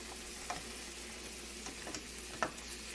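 Onions and carrots fry in oil for a meatless fried rice, giving a soft, steady sizzle with a few faint crackles and ticks close by.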